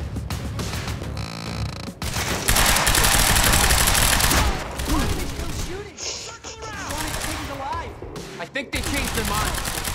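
Bursts of rapid automatic gunfire and single shots rattle loudly during Quantum Break gameplay, mixed with game effects, while a player talks between the volleys.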